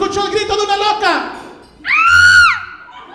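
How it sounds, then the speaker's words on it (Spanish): A woman's high, wavering scream used as a sound effect, loud and close and lasting under a second, coming right after a stretch of animated talking. "al abrirla se escuchó el grito de una loca"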